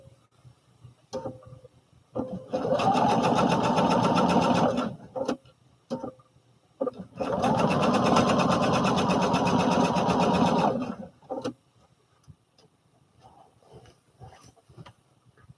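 A home sewing machine stitching fabric for a dress in two long steady bursts of rapid mechanical whirring, separated and followed by short clicks and quiet handling, close and loud.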